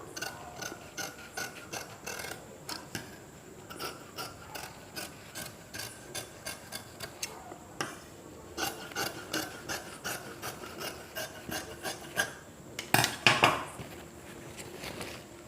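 Scissors snip a chudidhar collar neck shape out of canvas in a quick, rhythmic run of close, crisp cuts, with a brief louder rustle of the fabric near the end.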